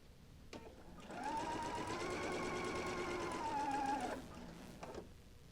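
Sewing machine stitching quilt pieces together for a Double Wedding Ring quilt, a steady, fast mechanical whirr that starts, runs evenly for about three seconds close up, then stops, with faint handling sounds around it.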